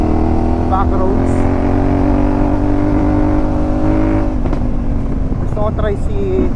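A 450MT Nebula Black motorcycle rides a rough back road, its engine a close, continuous drone that rises and shifts in pitch as the rider works the throttle.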